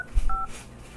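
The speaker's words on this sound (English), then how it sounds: "I'm calling Jerry Lavitz of DTE." Touch-tone telephone dialing: two brief DTMF key tones, close and clear, over a faint room hiss.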